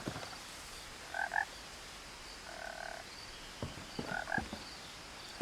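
Frogs croak in the pond area of What Remains of Edith Finch, three short croaking bursts spaced apart over a quiet ambient background.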